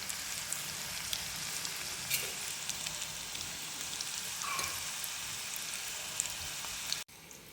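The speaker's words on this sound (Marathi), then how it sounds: "आणि हो का किती छान तळलं चाललं आहे बघा बरं." Red pumpkin fritters (bhaji) deep-frying in hot oil make a continuous dense sizzle with fine crackling pops, steady and close, ending abruptly with a short quieter tail.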